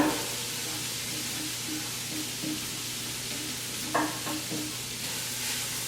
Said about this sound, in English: Let's sear these onions.